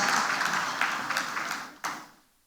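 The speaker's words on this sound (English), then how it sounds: "A resounding applause for this moment." Crowd applause at a ceremony presenting financial support to widows of fallen police heroes, moderately distant clapping that thins out and dies away, with one last sharp clap near the end.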